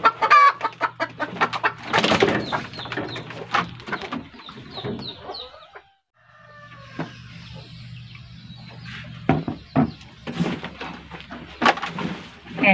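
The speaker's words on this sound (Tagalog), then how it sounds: "Ingay ng manok." Chickens cluck and squawk repeatedly, close by and fairly loud, with a brief pause midway before the clucking resumes.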